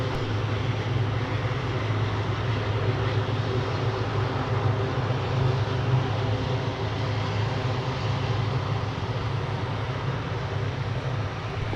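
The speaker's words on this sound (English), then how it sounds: "A C-130 surprise Right at sunset." A C-130 aircraft at MSP airport at sunset gives off a steady, droning turboprop rumble, loud and constant for about twelve seconds with a strong low hum and no voices.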